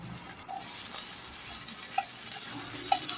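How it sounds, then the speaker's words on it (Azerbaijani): Eggplant slices frying in oil in a pan give a soft, steady sizzle, fairly faint and close, broken by a few sharp small pops or ticks, with no voices. "yağda hər iki üzünü yaxşıca qızardıb bişiririk."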